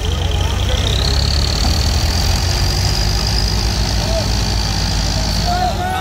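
A tractor engine running after starting, a loud, close, steady low rumble that holds throughout on a rural evening, with voices blending in over the engine noise.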